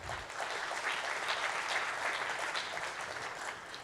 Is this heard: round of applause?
yes